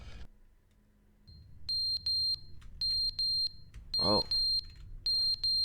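Fire alarm in The Stanley Parable beeping in sharp, evenly spaced high-pitched bursts that start after a quiet stretch and repeat steadily, with a brief spoken exclamation partway through.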